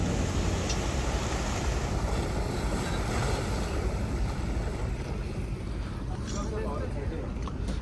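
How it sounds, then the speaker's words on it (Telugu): A houseboat cruises the Alappuzha backwaters in the early morning, with a steady low rumble of engine and water and constant wind buffeting, while faint voices murmur underneath. "బోట్ 7:30కి స్టార్ట్ అవుతుంది అన్నారు, బట్ 8కి స్టార్ట్ అయింది."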